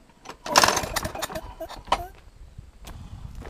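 A small engine fitted with a compression tester is turned over by its pull-start, giving a couple of rough, uneven rasping bursts close by, fading into quieter rattles and knocks.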